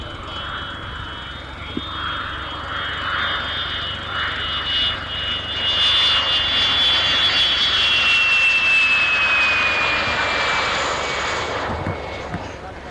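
Jet aircraft performing a flying display at the 1990 Farnborough Air Show, a conventional licence-built type with a 4,000 lb thrust Mark 632 engine, roaring steadily and swelling louder mid-pass, with a commentator talking over it.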